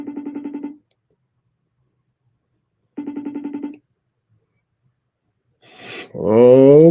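A telephone rings twice with a fast trilling double-burst, separated by a long silence and left unanswered, followed by a voice starting to speak near the end.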